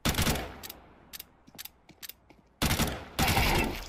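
FAMAS rifle in Counter-Strike 2 on the Mirage map, fired in loud sharp bursts: a burst at the start, a few scattered single shots, then two long rapid bursts at the end, close and with no talk.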